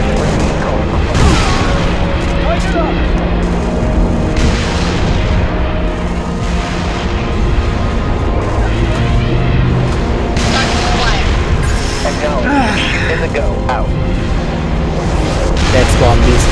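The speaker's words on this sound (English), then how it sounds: "Some satellite bombing" Satellite bombing strikes in Halo Reach pound a target area with dense, continuous rumbling explosions and booms, loud and close, while battle noise and voices run underneath.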